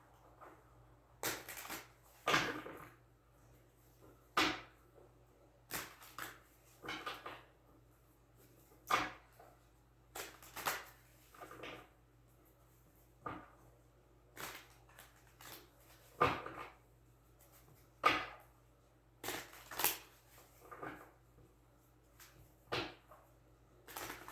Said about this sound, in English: So we're going to shuffle them again.